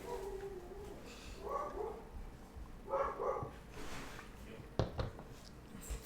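A dog barks a few times at a distance, short muffled yelps spaced apart, with background noise and a couple of sharp knocks.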